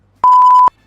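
A single steady electronic censor beep lasting about half a second, loud and clean, covering a spoken swear word during casual brunch chat at a Bandra home.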